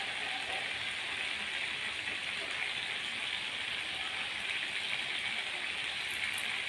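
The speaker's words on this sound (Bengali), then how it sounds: "বৃষ্টি হচ্ছে বাইরে, ভালোই লাগছে, প্রচণ্ড হাওয়া দিচ্ছে। হাওয়া তার সাথে বৃষ্টি চলছে।" A constant, even hiss of rain with strong wind pours down outside, broadband and steady with no breaks, forming a dense wash of sound.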